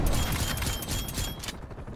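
Gunfire in Call of Duty Cold War during a multiplayer match: dense, loud bursts of shots and booming impacts crowd the opening second and a half, then fade into a quieter rumbling tail.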